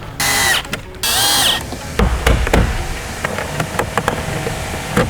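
Power driver spinning Torx screws during window tinting work, two short high whirring bursts followed by a run of knocks and clicks from handling parts nearby.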